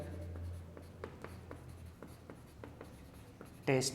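Marker or chalk strokes scratch across a board in a quick series of short, rhythmic taps and squeaks during a physics lesson, ending as a voice briefly begins to speak.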